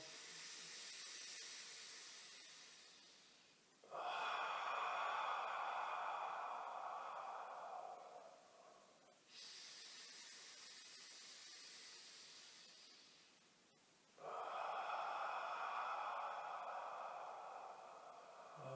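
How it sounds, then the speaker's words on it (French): Slow deep breaths during a pranayama breathing exercise, alternating long hissing inhales and exhales, each several seconds long, close and breathy with no talking. "Et encore 4 respirations profondes"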